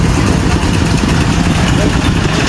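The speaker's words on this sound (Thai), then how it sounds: "สูบน้ำในวัดเนาะมาปล่อยลงนี้ มาปล่อยลงคลองระบายน้ำนะคะ" An engine-driven water pump drains floodwater from a temple into a drainage canal during a flood in Nong Khai; its loud, close, continuous droning chug runs unbroken.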